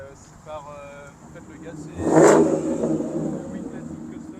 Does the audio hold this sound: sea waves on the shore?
no